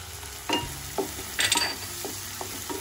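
Tomatoes and chili being stirred in a frying pan with softened onion, a faint steady sizzle under a few brief scraping stirs of the spoon, close and fairly quiet.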